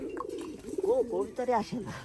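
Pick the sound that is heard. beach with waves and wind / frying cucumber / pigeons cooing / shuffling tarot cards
pigeons cooing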